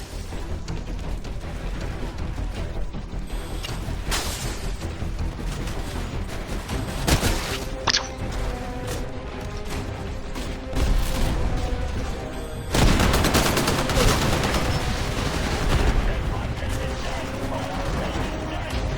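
Sustained gunfire and explosions from a Titanfall battle at an outpost, with dense bursts of shots, heavy booms and mechanical clatter running throughout, loud and close.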